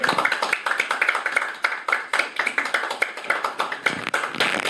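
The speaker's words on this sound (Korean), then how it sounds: "박수 한번 쳐주십시오." An audience claps at a policy seminar, with dense, close, continuous applause of many hands that stays steady throughout.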